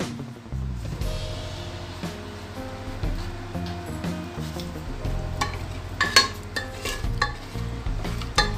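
Ash gourd pieces and spices being mixed in a pressure cooker pot, with repeated scraping and clinking stirring strokes over a soft sizzle, fairly close and without talk.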